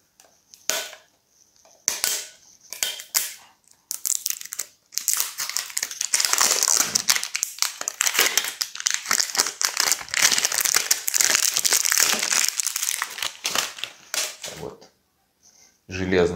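Perfume packaging for Ted Lapidus Alcazar being torn open and unwrapped, with sharp crinkling, crushing and rustling of wrapping that comes in short bursts at first and then runs dense and loud for several seconds, close to the listener.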